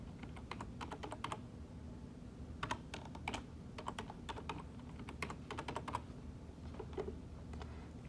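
Fingers type a password on a computer keyboard in quick clustered bursts of crisp key clicks with short pauses between them, close and fairly quiet, with no voices.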